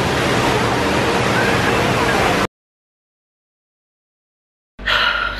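The indoor waterfall at Jewel in Singapore's airport pours as a loud, dense, steady rush of falling water. It cuts out abruptly partway, then briefly returns.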